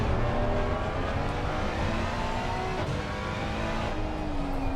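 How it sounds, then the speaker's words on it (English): Ferrari GT3 race cars in Assetto Corsa Competizione at the Nürburgring give a steady, loud engine drone with subtle pitch shifts as they run close together, with no voices over it. "The white Ferrari catching the black and gold Ferrari."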